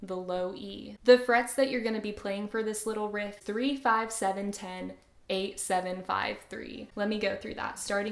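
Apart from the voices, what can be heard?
None of the usual background noises is heard.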